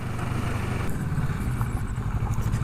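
Kawasaki Versys 650 motorcycle ridden on an unpaved road, its engine giving a steady, fairly close low drone with some rough rumbling throughout.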